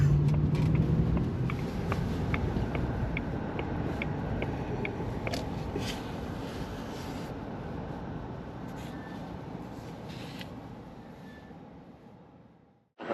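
A Jaguar XJR saloon driving along, a steady broadband engine and road rumble holding at a constant level close by before cutting out abruptly at the end.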